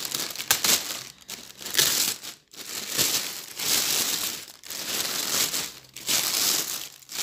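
A delivered parcel's packaging is torn open and handled, giving loud, continuous crinkling and crushing of plastic or paper wrap with short pauses between bursts, close to the microphone and with no speech.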